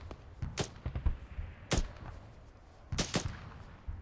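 Gunfire in the video game Arma 3, in an alternate-history Second Falklands War patrol: three sharp shots spaced out across a few seconds, loud over a low rumbling background.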